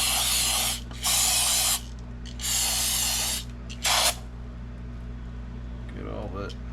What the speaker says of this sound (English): So let's take some brake clean to it.